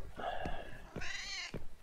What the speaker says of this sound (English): You stupid cat!